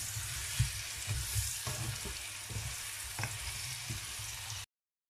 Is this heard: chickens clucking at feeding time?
no